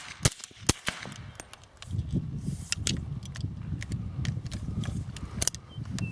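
A suppressed 300 Blackout short-barreled rifle fires subsonic rounds: a few sharp, moderately loud cracks in the first second, then more spaced shots over a steady low rumble, with a final cluster of reports near the end.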